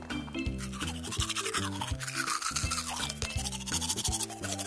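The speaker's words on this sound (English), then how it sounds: "Let's brush our teeth." Steady rapid scrubbing of a toothbrush brushing teeth, loud and close, running continuously over a bed of music-like tones with no talk.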